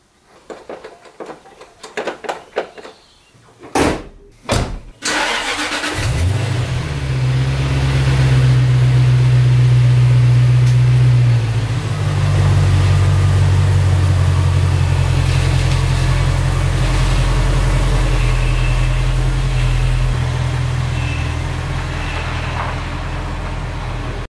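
A Jaguar S-type R engine cranks with a few sharp clicks, catches after about five seconds, then settles into a loud, steady idle rumble that runs on alone.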